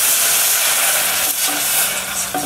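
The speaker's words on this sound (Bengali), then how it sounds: "এই যে আমি এখানে জল দিয়ে দিচ্ছি।" Loud, steady hiss of water being poured into a hot pan of ghee-fried semolina, rushing broadband sizzle filling the whole clip without a break and easing slightly near the end.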